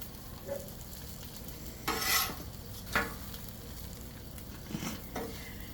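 Parmesan crusted pork chops frying on a Blackstone griddle give a steady low sizzle, with a few louder scraping or stirring bursts from a spatula against the flat top.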